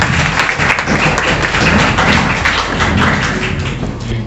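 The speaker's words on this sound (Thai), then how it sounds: "ปรบมือต้อนรับฝ่ายเสนอครับ" An audience claps steadily to welcome the proposing team at a youth debate final in Bang Saphan, a dense, sustained patter of applause with a few louder thuds throughout.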